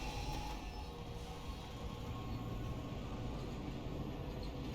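A steady low rumble of a video game tram rolling along, continuous and even, with a broad hum and faint rattling throughout and no voices.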